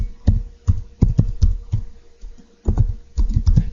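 Keys on a computer keyboard are struck in close, loud bursts of clacking. Quick clusters of taps are broken by brief pauses.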